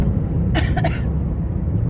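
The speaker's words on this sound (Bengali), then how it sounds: "মায়ের প্রচন্ড কাশি হচ্ছে, কাশিটা শুনে নাও।" A woman's harsh cough, two quick bursts close up inside a car on a road journey from New Delhi to Haridwar, over a steady rumble of engine and road.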